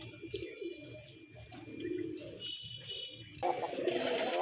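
A pair of big Rajgolla pigeons coo in low, throaty bursts close by, with brief chirps and a rush of background noise near the end.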